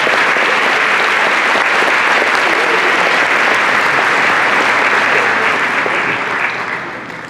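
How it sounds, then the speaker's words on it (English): A hall audience gives sustained applause for community leaders, dense and loud clapping that holds steady for several seconds before tapering off at the end. "Please join me in a round of applause thanking them for their leadership"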